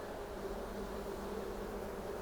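Honeybees buzz steadily around an open beehive during a hive inspection, a continuous, even drone at close range with no voices.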